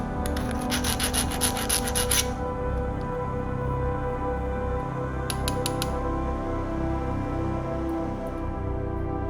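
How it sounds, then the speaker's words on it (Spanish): A file rasps burrs off a freshly drilled 1/4-inch hole in metal, with rhythmic scraping strokes early on, a brief second burst later, and a steady background hum. "Limamos las rebabas."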